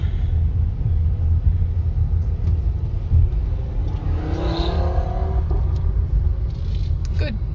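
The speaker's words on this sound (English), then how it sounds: "That's how you do a hairpin turn in a bus." Low engine rumble from a tour bus grinding up a hairpin turn on Pikes Peak, a steady heavy drone with wind buffeting and a faint rising whine as it climbs, heard from nearby.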